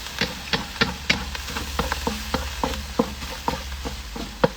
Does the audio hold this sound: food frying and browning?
yes